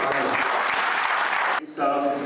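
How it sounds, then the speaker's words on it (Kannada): Audience applause at an event, a dense burst of clapping that runs loud and even for about a second and a half, breaks off briefly, then resumes. "ನಾವು ಅವರಿಗೆ ಎಷ್ಟು ಜೋರಾದ ಚಪ್ಪಾಳೆ ಹೊಡೆದ್ರು"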